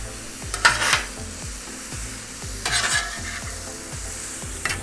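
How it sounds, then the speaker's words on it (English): Thinly sliced steak and onions sizzle steadily on a hot griddle while a metal spatula scrapes and stirs in a regular rhythm, close and loud, with no talking. "put our onions on it."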